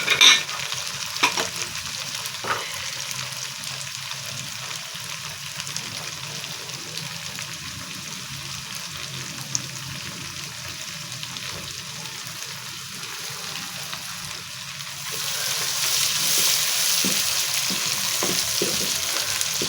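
Fish head curry sizzles steadily in a pan after tomatoes go in. A few stirring knocks sound early on, and the frying hiss grows louder toward the end.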